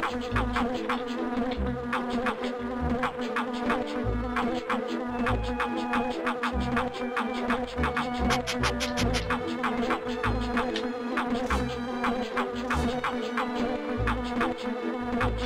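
A swarm of bees in The Grinch video game buzzes continuously and loudly up close, the droning hum holding steady with quick clicking pulses throughout.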